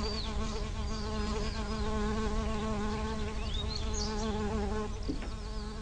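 Bees buzz around flowers, a loud, continuous close drone with wavering pitch from several insects, alone without voices.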